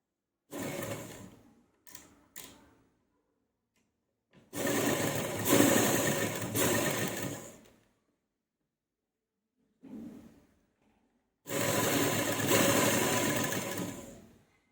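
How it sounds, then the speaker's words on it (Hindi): A sewing machine stitches fabric in a few separate runs: a short burst with brief stutters, then two longer, steady, loud whirring bursts of a few seconds each, separated by silence and a faint short pulse. "और यहाँ पर हम एक पैर की सिलाई लगाएंगे।"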